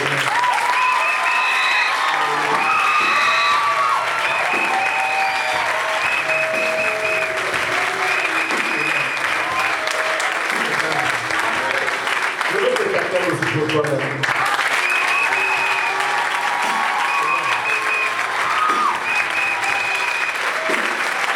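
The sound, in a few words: audience applause at a church conference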